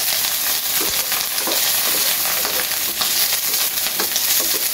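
Garlic sautéing in a hot pan for pork afritada, a steady close crackling sizzle with faint stirring scrapes throughout, no talking.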